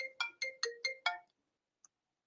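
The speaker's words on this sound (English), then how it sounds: "sorry, my phone's ringing." A phone ringtone plays five quick, bright tone bursts in an even rhythm, fairly close and clear against a quiet room, then stops, followed by a brief faint blip.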